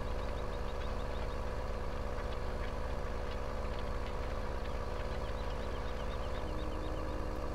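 Steady low engine drone of a tractor in a farming simulator game, idling and running continuously at a moderate level with no talk over it.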